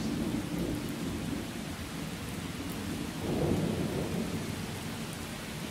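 Steady rain hisses throughout while a low rumble of thunder swells in the middle, with no voices, in the video game Miscreated.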